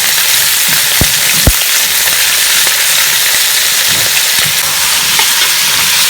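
Guinea fowl fries in hot oil with rising steam, a loud, dense continuous sizzle with occasional sharp pops and crackles standing out against the hiss.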